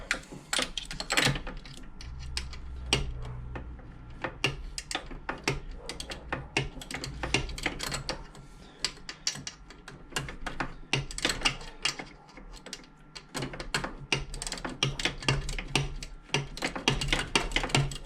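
A ratchet clicks in quick, uneven bursts while a WOSP alternator is fitted, with close, sharp mechanical ticks throughout and short pauses between runs.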